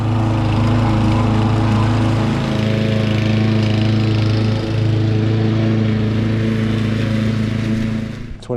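A lawn mower cutting grass on an estate, a loud, steady engine drone close by that holds for several seconds and cuts off abruptly at the end.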